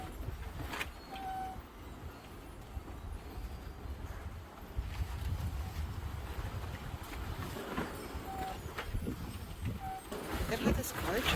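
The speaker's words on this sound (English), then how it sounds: "Look at how windy it is." Strong wind gusts buffet a backyard greenhouse with a steady, broadband roar of moving air and rustling that swells and eases, and trees sway nearby; a person talks over the windy noise.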